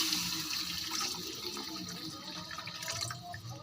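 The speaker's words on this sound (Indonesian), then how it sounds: "Dan sekarang kita masukin airnya" Water pours steadily into a pot for fish soup with snakehead and tilapia, a continuous splashing rush at moderate level with no talk over it.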